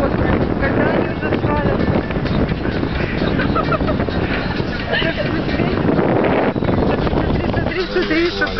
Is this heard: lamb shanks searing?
no